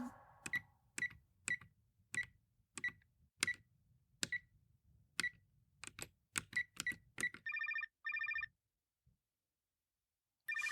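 A mobile phone keeps ringing with short repeated electronic chirps in an even rhythm, a run of beeps near the end, then a brief pause, heard fairly quietly with no talk.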